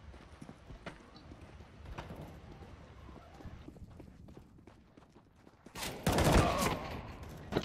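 Gunfire in the video game Counter-Strike, with rapid clicking and tapping through most of the stretch and a louder burst of shots near the end, under faint talk.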